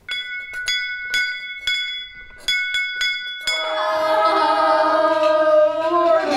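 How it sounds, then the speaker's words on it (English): A handbell is rung in a series of clear, ringing strikes, then shaken continuously in a sustained clangor, calling children in for a meal. "And we ring the bell and come in and eat one of our meals."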